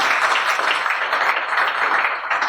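Steady applause fills a hall at a civil wedding ceremony as the bride's second witness stands, a dense, even wash of many hands clapping at moderate volume without a break.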